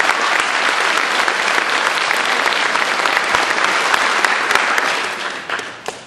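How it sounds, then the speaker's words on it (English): A large audience at a high school spring concert claps steadily and warmly for the middle school directors, a dense wash of applause that holds for several seconds before tapering off at the end. "let's have a round of applause for our middle school directors as well"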